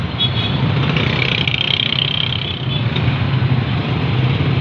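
Congested road traffic with cars and trucks idling and creeping along, a steady dense engine rumble close by with no clear gaps.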